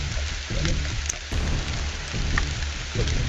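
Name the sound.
heavy rain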